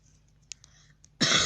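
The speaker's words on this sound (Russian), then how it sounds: "Извините за кашель, болею." A man who is ill coughs and clears his throat: soft clicks over near-silence, then one loud, close, harsh burst near the end.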